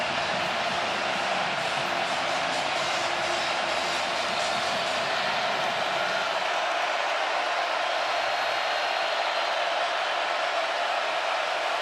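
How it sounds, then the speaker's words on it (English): Football stadium crowd at a South Carolina versus Missouri college game roaring steadily in a broad, continuous wash of noise, loud and sustained throughout, easing slightly toward the end. "Viewers at home are going to hear this crowd going"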